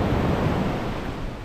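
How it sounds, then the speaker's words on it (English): Ocean surf washes onto a beach at Port Barton, Palawan, a loud and steady broadband rush of breaking waves mixed with wind buffeting the microphone. "Listening to the waves"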